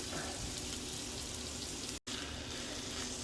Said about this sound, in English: I'm just kind of searing it a little on the outside, get a little browning